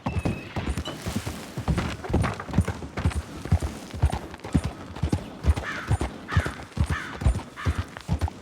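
Rhythmic clip-clop of horse hooves trotting steadily in Red Dead Redemption 2, close and fairly loud, with a brief whinny-like tone and faint background noise.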